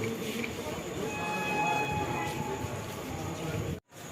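A train at a busy railway station, its rumble and clatter rolling steadily with faint squeals and tonal hums, background voices mixed in, before the sound briefly cuts out near the end.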